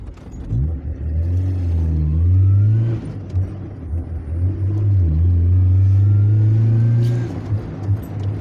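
A Tofaş Kartal engine running with no exhaust fitted, loud and close, revving repeatedly in rising and falling surges with a raw rumbling drone between the bursts.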